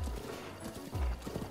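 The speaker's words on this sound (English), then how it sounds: "So, this is my new horse." Horse hooves in Breath of the Wild, a short burst of soft clip-clopping steps with low thuds, fairly quiet and alone.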